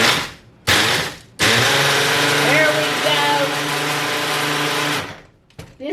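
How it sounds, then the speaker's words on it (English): A Ninja smoothie blender runs loud and steady for several seconds, a high whirring motor drone that shifts slightly in pitch as it blends, starting after a short burst and cutting off near the end. "I'm thinking it might be time for me to break out my smoothie blender again"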